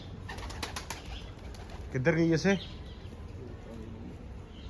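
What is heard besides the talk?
pigeons cooing and flapping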